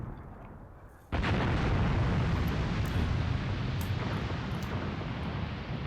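Incoming artillery fire in Graviteam Tactics lands with a sudden loud blast that leaves a long rumbling roar, with faint crackling bursts trailing behind it.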